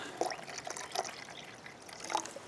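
Water trickles and splashes softly from a bottle into a small container during an outdoor tea-making outing, a faint, uneven pour with little gurgles and drips.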